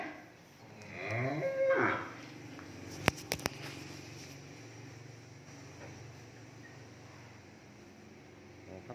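Cattle at a cow farm moo once, loudly and nearby, in a long drawn-out low call. A few sharp knocks follow, and faint farm noise fills the background.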